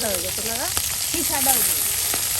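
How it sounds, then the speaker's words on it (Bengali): Shrimp sizzle as they hit frying onions in a pan, a steady loud crackle with scraping stir sounds, while a voice chimes in briefly over the frying. "এই যে এখন আপনার পেঁয়াজের সাথে কিন্তু চিংড়ি মাছগুলো দিয়ে দেওয়া হচ্ছে।"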